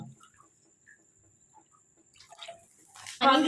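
Water is poured into a cooking masala for dal kofta curry; faint clinks and scrapes give way to a sudden loud, close splashing pour at the end.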